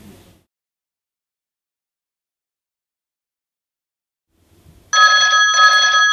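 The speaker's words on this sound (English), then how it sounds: "this is an incoming call" An incoming video call ringtone on the v-connect consultation service plays as a bright electronic ringing burst near the end, after a long stretch of near silence.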